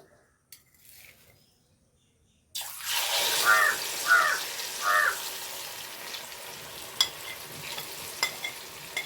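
Jackfruit pieces fry in hot oil for Onam-special kondattam, a steady loud sizzle that bursts in after a quiet start, with a few bubbling pops and stirring scrapes.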